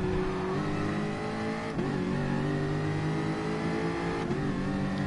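Gr.4 race car accelerating at Fuji in a racing game, its engine note climbing steadily with brief dips at gear shifts, continuous and prominent with no talk.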